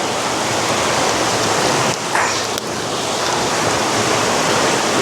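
Water rushes continuously through a tunnel in Vagamon, Kerala, producing a loud, steady, broadband roar that echoes and never lets up, with no voices over it.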